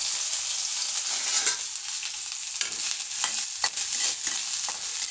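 Garlic and ginger sizzle and crackle steadily in hot oil while a utensil stirs and scrapes the pan, with a few sharper clicks over the continuous frying hiss and no talking.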